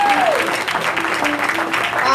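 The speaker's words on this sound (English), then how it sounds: "let's clap on that" A church congregation at a Youth Sunday service claps briefly, a loud burst of applause with a voice and a high sustained tone running through it.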